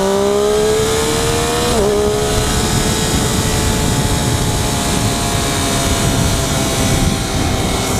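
Loud, steady three-cylinder engine drone from a 2013 Triumph Daytona 675R motorcycle, close to the microphone. Its pitch dips briefly early on, then holds an even, rough hum throughout.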